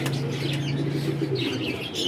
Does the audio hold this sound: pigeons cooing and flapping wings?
yes